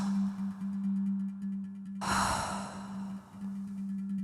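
A person takes a slow two-part inhale through the mouth, filling the lower abdomen and then the chest. A soft breath is followed by a louder airy rush that fades out, heard close against a low steady hum.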